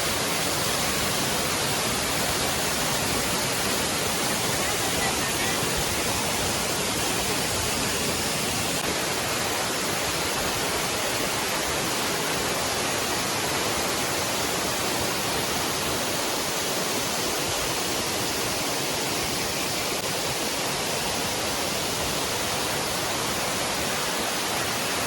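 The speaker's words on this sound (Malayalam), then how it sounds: "ഇടുക്കിയിലെ കഞ്ഞിക്കുഴി ടൗണിൽ നിന്ന് 2 കിലോമീറ്റർ മാറിയാണ് നമ്മുടെ ഈ പുന്നയാർ എന്ന് പറയുന്ന വെള്ളച്ചാട്ടം" Punnayar waterfall near Kanjikuzhi in Idukki, a dense, unbroken roar of falling water that fills the whole stretch at steady loudness, with no voices.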